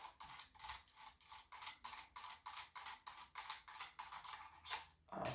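Nut holding the sling swivel being unscrewed on an Adler Arms A-110 12-gauge lever-action shotgun (Black Aces Tactical), a steady run of fast, close ratcheting mechanical clicks in regular bursts, with no talking.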